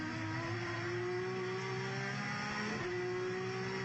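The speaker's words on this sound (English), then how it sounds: "He's followed through by Will Hoy in his Toyota. And it gets very close indeed" Touring car engines, Nissan and Toyota among them, roar continuously on a short 1.2-mile racing circuit as the cars race past, with a steady loud engine drone and shifting pitch as one car closes in close behind another.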